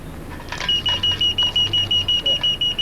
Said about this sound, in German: So zeigt die lächerliche Alarmanlage durch ihr Piepen nur an, dass das Fahrrad geklaut worden ist.